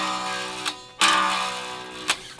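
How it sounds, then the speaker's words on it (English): Resonant string buzz from a Harley Benton 8-string guitar with the volume off, a faint sustained metallic ringing hum punctuated by a few soft ticks and one brighter swell, close and quiet with no talking. "there's a lot of like string resonant buzz, which you might be able to hear when my volume is off."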